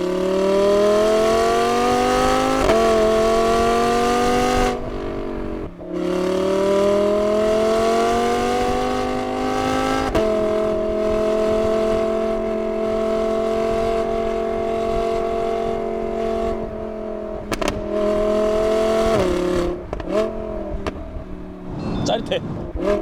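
An Audi R8 4S sports car with a custom valved exhaust drones and revs steadily, rising and falling in pitch, loud and close, with brief pauses between pulls.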